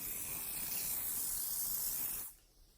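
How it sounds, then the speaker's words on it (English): A steady, hissing spray from a bottle runs continuously for about two seconds, close and fairly quiet, then cuts off abruptly. "we're gonna go ahead, spray her down"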